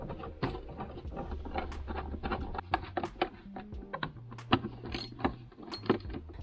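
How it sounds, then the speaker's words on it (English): Screws being driven back into dashboard trim on a Mercedes S-Class, a string of close, irregular clicks, ratcheting taps and small rattles in a quiet interior, with no talking. "We can put our screws back in."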